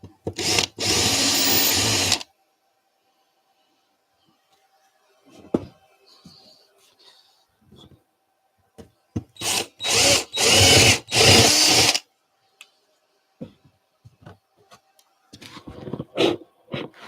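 An electric power drill bores holes in several separate bursts, loud and close, with a long whirring run at the start, then a cluster of short stop-start bursts and a few brief final pulses between quiet gaps.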